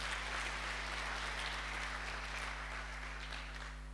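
Worshippers at a Holy Communion service keep up a continuous round of clapping, many hands blending into a dense, steady patter that tapers slightly toward the end over a faint hum.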